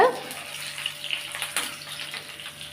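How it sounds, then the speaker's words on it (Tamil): Curry leaves and half a bay leaf dropped into hot oil for a Tamil-style chicken masala curry give a close, steady sizzle with brief crackling bursts, heard alone without talk. "இப்போ இதுலையே ஒரு ரெண்டு மூணு கருவேப்பிலை இலப்பை சேர்த்துடலாம் பாதி பிரியாணி இலை சேர்த்துக்கலாம் ஃப்ளேவருக்காக"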